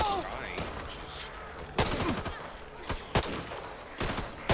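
Gunfire in the video game Back 4 Blood, several sharp shots and short bursts cracking at irregular intervals, loud and close, with quieter in-game noise between them.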